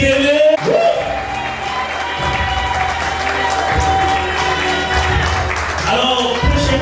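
Guests at a wedding celebration applaud and cheer loudly in a crowded hall, with continuous clapping and shouts running under an amplified announcer's voice and background music.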